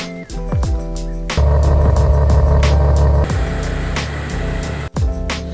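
A Ferrari supercar engine revs in neutral, loud and close, swelling and dropping through several throttle blips with a strong low rumble, no voices.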